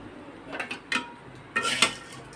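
A pot lid set down over noodles frying on the stove, giving a few sharp metallic clinks and clatters, then a louder double clank near the end, close by and with no talking.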